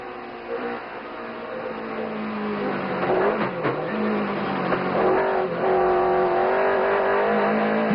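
Racing cars accelerate off the grid at a 1993 race start, engines climbing in pitch together as a loud, layered roar builds steadily, with overlapping revs from several cars close by.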